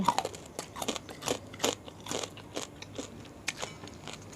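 Crispy pork skin, Thai-style, is bitten and chewed up close, giving repeated loud crackly crunches in an uneven rhythm, alone without talk.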